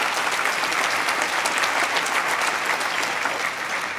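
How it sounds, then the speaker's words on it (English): An audience applauding at an award speech, a dense, steady wash of clapping from a sizable crowd that holds evenly for several seconds before easing slightly. "I figured out how to get applause."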